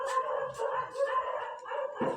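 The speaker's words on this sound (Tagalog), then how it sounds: "Ingay ng aso." A dog barks and howls in a drawn-out, wavering series of cries repeating about every half second, close and fairly loud, during a storm.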